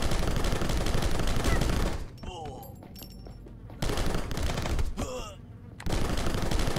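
Bursts of automatic gunfire in the video game Rocketbirds: Hardboiled Chicken, two long loud volleys broken by short gaps of quieter game sounds.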